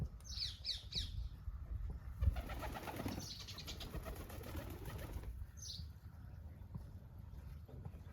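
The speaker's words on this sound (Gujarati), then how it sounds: "તો મિત્રો જો ઘણા બધા કબૂતર આવી જાય સરવા માટે" Pigeons on a rooftop loft give a few quick bursts of wing flapping and brief squawky calls over a low, steady background rumble, fairly faint and at a moderate distance.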